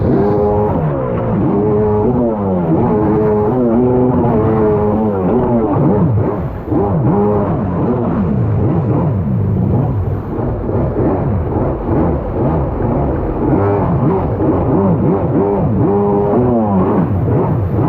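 A Kawasaki X2 stand-up jet ski engine runs loud and close, its revs rising and falling in a continuous rough drone with no talk over it.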